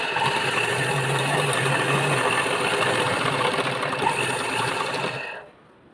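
A sewing machine stitches the neckline of a blouse in one continuous, close mechanical whir, running steadily for about five seconds before stopping abruptly.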